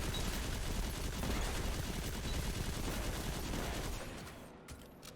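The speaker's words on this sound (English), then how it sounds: "I'm going to go ahead and Witherhoard and throw a grenade" Dense, sustained gunfire and explosive bursts from the Witherhoard grenade launcher and a thrown grenade in Destiny 2, a loud, continuous barrage that thins out near the end into a few sharp pops.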